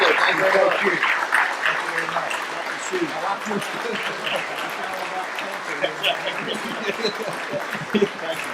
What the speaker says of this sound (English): join us in applauding their outstanding accomplishments